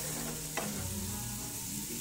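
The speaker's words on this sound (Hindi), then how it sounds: "अब इन सबको अच्छे से मिक्स करेंगे" Spices sprinkled with black pepper are stirred in a frying pan for an Indian-style macaroni dish, a soft sizzle broken by a brief spoon scrape, quiet and close.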